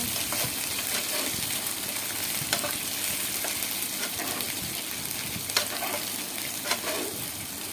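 Crushed ginger and garlic frying in hot oil, a steady close sizzle with intermittent scraping and stirring clicks from a utensil against the pan throughout, no voices.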